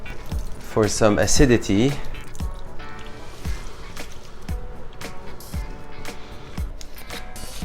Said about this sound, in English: To that, I'm gonna add the juice of half a lemon